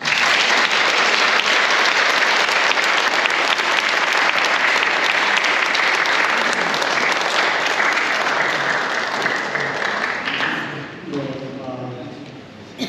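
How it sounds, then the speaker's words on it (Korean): Loud, steady audience applause in a church leadership retreat hall, dense clapping sustained for about ten seconds before fading away, followed by a brief voice. "우리 박수 한번 더"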